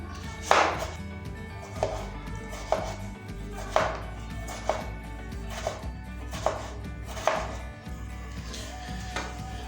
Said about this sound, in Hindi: टमाटर को भी इस तरह से काट लेंगे।